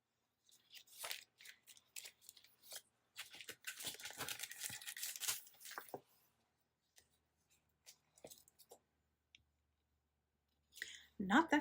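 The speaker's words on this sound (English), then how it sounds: "let me get a little to-do sticker" Peeling a small to-do sticker off a sheet for a Happy Planner: close, quiet paper crinkling, clicks and rustling in bursts, then a few sparse taps and a short rustle at the end.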